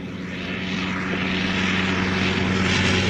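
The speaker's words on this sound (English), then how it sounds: "The Avro putting down at Dewsbury nearly 16 miles destination." An Avro propeller aircraft comes in to land at Dewsbury, its engine a steady droning rumble with a constant propeller hum that swells slightly louder over a few seconds, with no talking.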